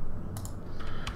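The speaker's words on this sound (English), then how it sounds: "Then we're going to hit A on our keyboard" A few quick computer keyboard key presses click close by, in short bursts over a quiet room.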